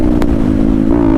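Motorcycle at full throttle on an open highway, its engine holding a loud, steady, close drone with wind rush and no pauses or speech.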